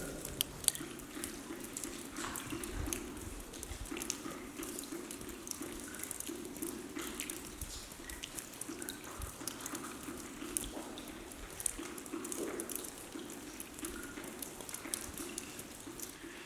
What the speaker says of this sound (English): we're going to give you a few moments of listening to water coming through the tunnel walls